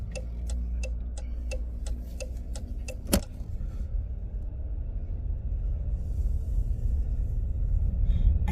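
A minivan rolls along the road with a low, steady engine and tire rumble inside the cabin, while a rapid ticking like a turn signal clicks for the first few seconds, then a single sharp knock before the drone continues.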